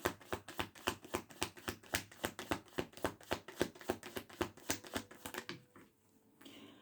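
Tarot cards shuffled by hand in a quick, even rhythm of crisp riffling flicks, close and clear, then a few quieter sounds as cards are set down at the end.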